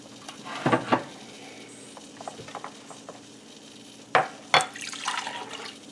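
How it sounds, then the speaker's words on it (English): Water splashes and gurgles as it is drained from a jar of beans, with a few drips and clinks between louder pours. "we're going to drain off the water from the beans"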